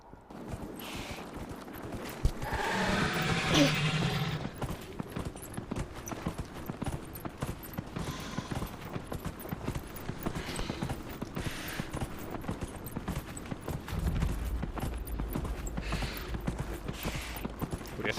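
Hooves of a horse mount clip-clop steadily across desert ground in Dragon Age Inquisition, a continuous walking rhythm beneath occasional swells of game ambience and effects.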